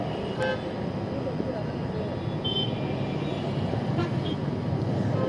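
Heavy road traffic rumbles steadily near the Perungalathur bus stand during the Diwali rush, with a few short horn toots rising above the continuous roar while people talk.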